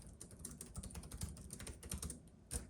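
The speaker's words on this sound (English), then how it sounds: "This is a high-pitched kind of chiclet sound." Rapid typing on the low-profile chiclet keyboard of a ThinkPad Z13 OLED laptop, a dense run of light, high-pitched clicks with a louder burst near the end, close up and with no talk.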